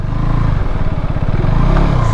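A KTM 390 Adventure S motorcycle runs on a trail track in first gear, its engine chugging loud and close as a steady, throaty thrum.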